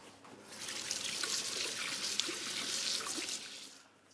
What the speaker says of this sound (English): Right, I'll just wash my hands.